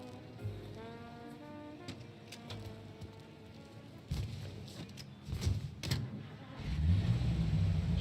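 A car engine from Mafia: Definitive Edition hums at low volume while driving, with a low rumble that grows heavier toward the end and sparse clicks and knocks over it.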